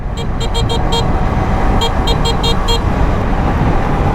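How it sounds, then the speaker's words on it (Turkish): A bright motorcycle horn on a Yamaha MT-25 beeps rapidly in two quick bursts of several toots each, over a constant rumble of engine and road noise. "Kornası çok güzel."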